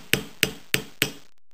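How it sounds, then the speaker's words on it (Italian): A hammer taps four times at an even rhythm while shaping a decorative spiral piece for monachelle earrings, each a sharp close strike with a short ring, then silence. "scusate il disturbo probabilmente che sentirete dovuto al martello"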